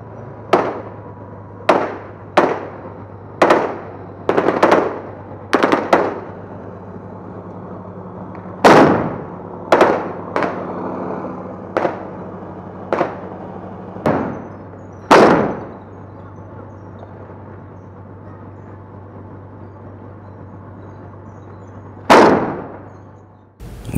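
Combat gunfire as militants try to stop an infantry landing in Syria: sharp, loud single shots and short bursts cracking at irregular intervals over a steady low engine hum, with gaps between volleys.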